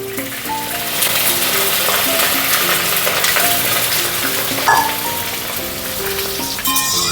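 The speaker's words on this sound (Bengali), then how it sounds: "বেগুনগুলো ভালো মতন ভেজে নিয়েছি লাল লাল করে" Eggplant pieces fry in oil in a home kitchen, giving a continuous crackling sizzle with soft music playing underneath.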